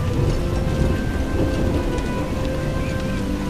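Steady rain falling and pattering on surfaces, a dense continuous hiss heard alone with no voices over it.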